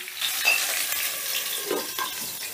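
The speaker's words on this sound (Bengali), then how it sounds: "কুমড়োটা একটু নাড়াচাড়া করে এবারে আমি ঢাকা দিয়ে দিচ্ছি" Pumpkin fries in a pan while being stirred, with a close, continuous sizzle overlaid by a few soft scrapes and clicks of the stirring.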